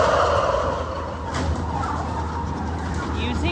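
A crowd of turkeys gobbling steadily in a barn on loading day at a turkey farm, with a loud, dense, continuous chorus of many birds over a low mechanical rumble.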